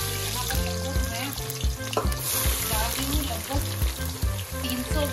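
Roughly chopped onions, about 300 grams, fry in hot mustard oil for chicken dum biryani, giving a steady close sizzle with intermittent stirring clatter and a faint musical tone running underneath.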